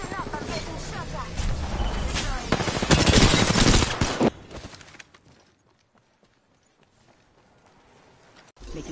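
Rapid automatic gunfire and chaotic combat effects in the battle royale game Apex Legends on the World's Edge map, loud and dense at first, then dropping off to near quiet, with a game voice speaking over it.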